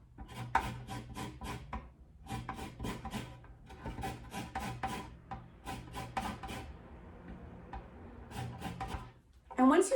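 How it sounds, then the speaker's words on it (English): A lime rubbed against a fine grater for zest, giving repeated rhythmic rasping strokes in short bursts, close and clear, with a person talking over part of it. "So we'll just move it around, zest the entire lime, or 2 teaspoons worth."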